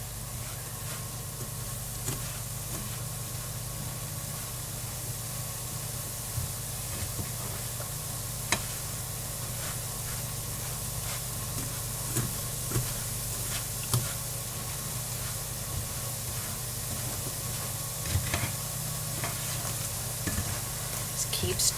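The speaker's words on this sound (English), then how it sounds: "Just keep stirring so it doesn't burn or stick." Sugar melting in a pan for vegan toasted almond brittle, stirred with a wooden spoon: a steady sizzling hiss runs throughout with faint scraping and occasional soft clicks, fairly close.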